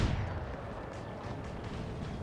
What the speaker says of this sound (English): Oh, it's the bloody hand mortars.